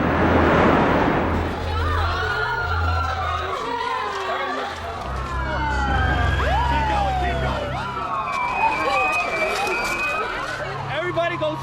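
Ambulance sirens wail with rising and falling sweeps, several overlapping at a middle distance, amid crowd noise and voices.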